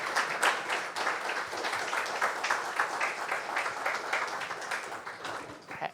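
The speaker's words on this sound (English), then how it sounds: "Let's give a round of applause to the speaker." Sustained audience applause for a speaker at a Julia programming conference talk, dense steady clapping from a seated crowd filling the room, loud throughout and tapering slightly at the end with no voices over it.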